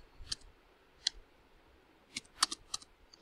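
Sparse bursts of keystrokes on a computer keyboard, a few quick clicks spaced out over a few seconds, close and fairly quiet in a still room.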